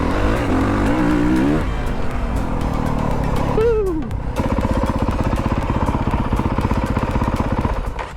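A dirt bike engine revs hard, either a 2001 Honda CR500 or a 2024 CRF450R, with rising and falling throttle sweeps, a brief lull, then a steady, loud, close buzzing drone.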